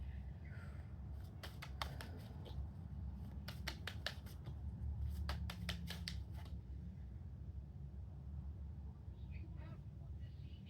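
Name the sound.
tarot cards being shuffled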